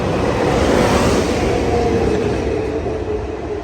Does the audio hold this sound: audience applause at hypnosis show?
no